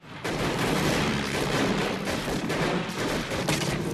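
German soldiers firing on a World War I plane, a dense, loud burst of rapid gunfire and booming shots that continues without pause for several seconds.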